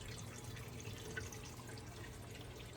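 Water from a reef aquarium filter return pours steadily into the first chamber, a continuous close splashing and trickling wash with faint drips, no voices.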